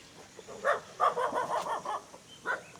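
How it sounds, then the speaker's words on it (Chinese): Several dogs and young puppies, mostly yellow with one black, in a quiet, nearly deserted mountain village, giving a few short barks and yips close by, in separate bursts with brief gaps between them. "这里一下子有了好几条狗在，好多狗啊"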